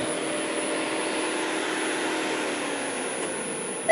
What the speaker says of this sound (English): I can hear the fans going outside.